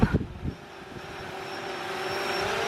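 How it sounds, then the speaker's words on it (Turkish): A drone filming from above over an open field gives a steady, faint high-pitched motor whine that builds slightly and holds. A few soft knocks are heard at the start. "Drone bayağı kuvvetli yalnız."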